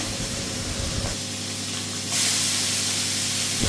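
Shrimp dropped into a hot pan for a Bengali mashed gourd-leaf dish, giving a steady close sizzle that swells louder and brighter about halfway through, with a low hum underneath and no talk.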